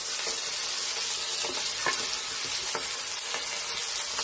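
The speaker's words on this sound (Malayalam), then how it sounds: "ഈ ഫ്രൈഡ് റൈസിന്റെ അരിയൊന്ന്, ബസുമതി അരിയാണ് ഇത്, നമുക്കൊന്ന് ഇട്ട് കൊടുക്കും. ഇട്ടത് വറുത്ത് മാറ്റി വയ്ക്കും." Basmati rice frying in a pan for beef biryani makes a continuous close sizzle, broken by a few brief scraping stirs.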